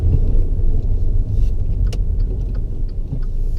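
Cabin noise inside a moving 2013 Dodge Dart after a wheel bearing replacement: a steady low road rumble and engine drone, loud and continuous throughout, with faint rattles and no talking.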